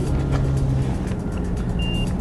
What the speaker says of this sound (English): pull the trigger, and you'll hear a beep